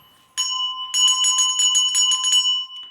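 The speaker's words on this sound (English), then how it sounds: "I'm picking up the red bell because it's the red bell for love." A red hand bell rings in a quick, steady run of bright, ringing strokes for about two seconds, close and clear with no talking, then fades out.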